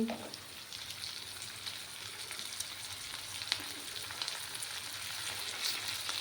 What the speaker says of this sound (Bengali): এভাবে ডুমো ডুমো করে আলুগুলো দিয়ে দিচ্ছি